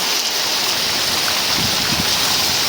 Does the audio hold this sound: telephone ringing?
no